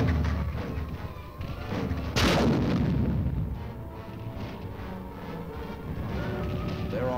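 Heavy aerial bombardment during the Korean War rolls on as a dense, continuous rumble of distant blasts, with one sharper, louder boom standing out near the middle.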